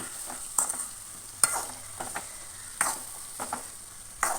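Salt is stirred into chopped mango pickle, with a few distinct scraping strokes in an uneven rhythm, close and fairly quiet, with no speech.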